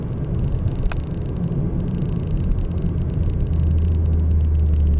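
A supercharged Holden VF Calais cruises with a steady, low engine rumble and road noise inside the cabin, the deep drone thickening slightly toward the end as the car pulls harder.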